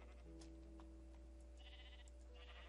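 A Minecraft sheep gives a couple of short bleats that sit faintly over a constant low hum.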